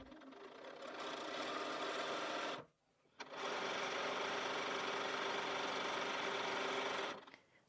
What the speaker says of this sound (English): So let's take those to the sewing machine and sew.